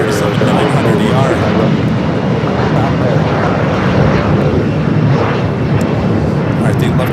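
A Boeing 737 jet airliner at Los Angeles LAX airport, a 737 MAX 9 among the traffic, makes a steady loud broadband roar that holds for the whole stretch, with talk over it.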